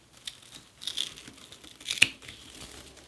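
Fabric scissors snipping through deco mesh for a Christmas wreath, a few close, crisp crinkling cuts with one sharper snip near the end, no talking.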